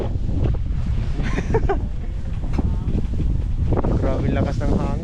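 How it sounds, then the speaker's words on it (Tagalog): Strong wind buffets the microphone with a constant low roar and rumble, briefly overlaid by voices. "Grabe lakas ng hangin ah."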